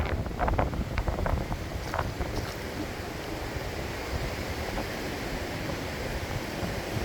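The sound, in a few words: strong wind on a seashore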